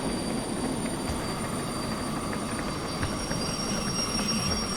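Steam locomotive in the Derail Valley game rolling through snow while its train brakes are applied, giving a steady, continuous rumble of wheels and brake noise with a faint high whine, with no pauses throughout.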